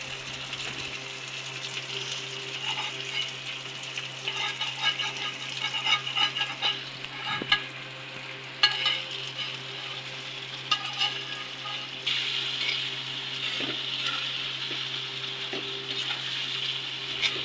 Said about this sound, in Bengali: পেঁয়াজ মরিচ ভাজা হয়ে গিয়েছে এখন ইলিশ মাছ দিয়ে দিচ্ছে